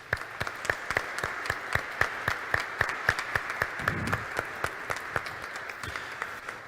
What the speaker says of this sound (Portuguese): com uma grande salva de palmas.